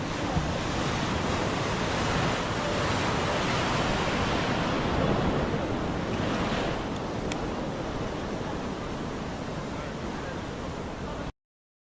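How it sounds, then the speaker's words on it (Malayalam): Strong waves crash continuously at a Goa beach, mixed with heavy wind buffeting the microphone, forming a loud, unbroken roar that runs for the whole clip. "അതിതീവ്രമായ കാറ്റും അതിനേക്കാൾ തീവ്രമായ തിരമാലകളും"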